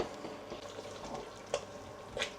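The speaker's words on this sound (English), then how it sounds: "Just gonna give that a stir." Ukwa, breadfruit with sliced scent leaf, being stirred in a pot, soft quiet scraping and light sizzle with a couple of brief clinks of the spoon.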